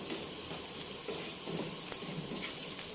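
Soft, continuous sizzle of ginger garlic paste frying in a pan, fairly quiet, with a few small crackles and stirring sounds.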